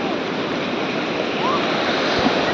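Sea waves at Gokarna beach in Karnataka make a steady, close surf roar and wash around someone wading in, continuous and unbroken with a breath of wind noise.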